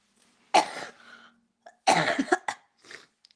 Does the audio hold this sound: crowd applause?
no